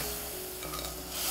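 A spoon scraping and stirring sugar into a reducing sauce in a pan, soft rasping strokes over a faint sizzle, short and close.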